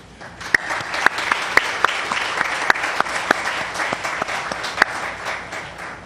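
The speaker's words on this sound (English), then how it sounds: "everybody give their parents a clap." An audience at an evening Mahabharat religious discourse at a Hindu temple claps together for the parents of children, steady close applause with a few sharp individual claps standing out above the rest.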